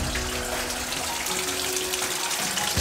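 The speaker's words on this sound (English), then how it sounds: "Turn this on, water should come out of the tub spout." Water gushes steadily from a bathtub spout in a house under renovation, a dense continuous rushing close by and alone, cutting off abruptly at the end.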